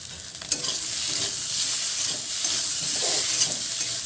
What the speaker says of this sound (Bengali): মশলার সঙ্গে আলুটাও ভালো করে কষিয়ে নেব